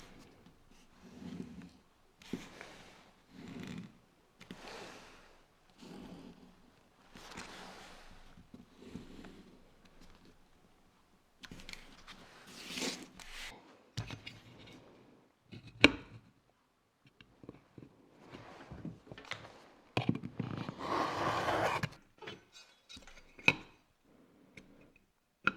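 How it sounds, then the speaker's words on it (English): Leather wallet pieces cut out along a ruler with a rotary cutter for a vertical bi-fold wallet, heard as a series of soft rolling scrapes and light ticks, with a few louder, denser cutting passes toward the end. "neatly cut them out with a ruler and rotary cutter"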